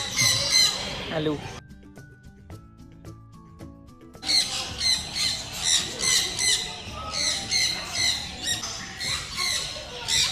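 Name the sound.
lovebirds and cockatiels squawking at bird park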